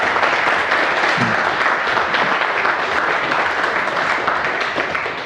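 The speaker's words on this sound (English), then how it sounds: "Round of applause, Mr. Kirill." Steady, dense applause from a conference audience greeting a speaker at a hacker event, loud and continuous for about five seconds with no talk over it.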